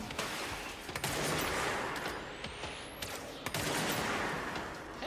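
Rapid bursts of gunfire from the video game Control, loud and continuous over a steady noisy background, with sharp louder shots punctuating the stream.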